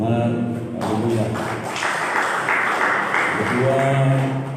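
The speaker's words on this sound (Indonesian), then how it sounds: "Tepuk tangan untuk Tuhan" A church congregation claps together in a burst of applause lasting a couple of seconds, sandwiched between a voice speaking through the room's sound system before and after.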